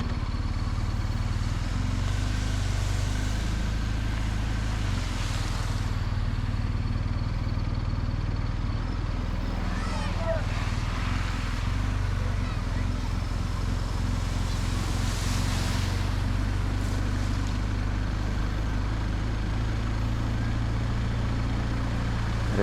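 Vehicle pushing through a strong stream of flood water in Oman, a continuous loud engine drone with rushing, sloshing water and wind noise throughout, no clear talk.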